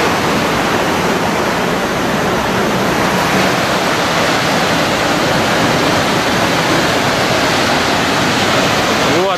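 Vernal Fall in Yosemite Valley roars with a steady, dense rush of falling water, loud and unbroken throughout, heard close to the cascade with no other sounds standing out.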